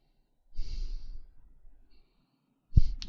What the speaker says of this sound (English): and the breathing.